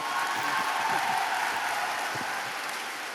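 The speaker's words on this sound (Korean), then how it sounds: "박수를 치려면 크게 치세요 한번" A crowd at a hospital workers' strike rally claps in a dense, continuous roar of applause that holds steady and only slightly eases toward the end, with no talk over it.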